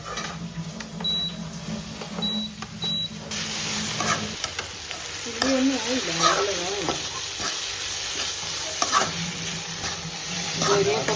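Chopped onions fry and get stirred in a pan for egg curry, a loud steady sizzle with scraping stirs up close; a voice speaks briefly over it.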